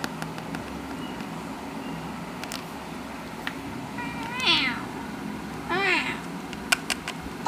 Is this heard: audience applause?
no